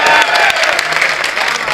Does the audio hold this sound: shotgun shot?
no